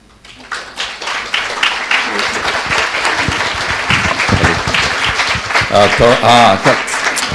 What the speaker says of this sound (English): the volume of the clap should increase